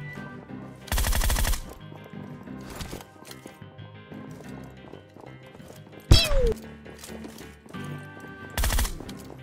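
Several loud bursts of video-game gunfire, including a rapid automatic volley, a sharp single shot and another burst near the end, over a busy background of game sound and music.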